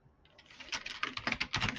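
Fingers type quickly on a computer keyboard, a close, crisp run of rapid key clicks that starts softly and grows into a dense, uneven patter.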